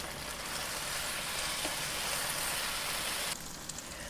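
Eggplant sizzles and fries steadily in a pan over heat just above medium, a dense, even crackle that holds close and loud throughout, with a brief shift near the end as it is turned with a bamboo spatula.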